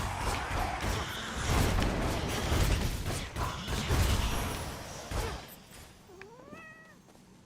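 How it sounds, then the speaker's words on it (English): A cat meowing in the video game Hades II, a short rising-falling meow near the end after a stretch of busy mechanical clanks and combat noise. "I like the cat noises."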